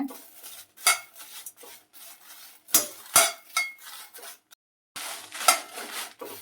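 Spices for Malnad rasam powder being dry roasted in a pan, heard as close, intermittent scraping and stirring with metallic clinks and rattles in uneven bursts, separated by short quiet gaps.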